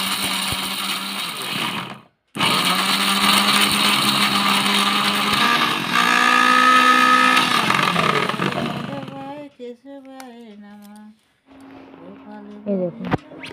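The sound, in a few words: mixer grinder chopping grated coconut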